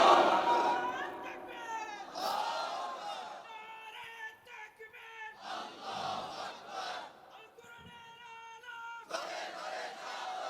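A crowd at a religious gathering shouts Allahu Akbar in answer to a preacher's Nara-e-Takbir call, loud massed voices in repeated surges, echoing in a hall.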